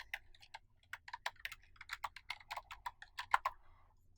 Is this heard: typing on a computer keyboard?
yes